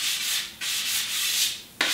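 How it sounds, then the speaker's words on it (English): A wooden pin board edge is hand sanded with quick back-and-forth strokes, a close, loud rasping hiss broken by two brief pauses and no voices. "So I've just got one little arris to sand down and one inside face."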